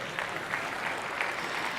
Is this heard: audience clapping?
yes